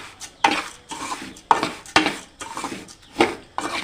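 A utensil stirs semiya and rava roasting in a pan, making repeated scraping strokes against the metal every half second or so, close and moderately loud with a faint sizzle underneath.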